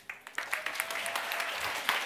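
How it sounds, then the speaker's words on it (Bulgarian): A modest audience claps to welcome speaker Bogomil Peshev at a talk, scattered individual claps building into fairly quiet continuous applause. "нека да посрещнем с аплодисменти Богомил Пешев"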